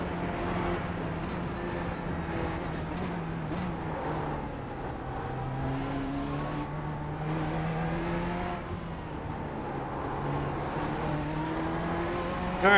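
Corvette C8 engine in the iRacing video game, a continuous engine note rising and falling with repeated shifts and revs through a lap, steady and moderately loud.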